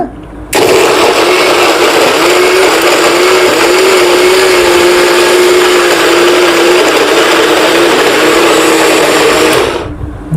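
A Longway mixer-juicer motor whirs loudly at a steady high pitch, starting abruptly and stopping near the end.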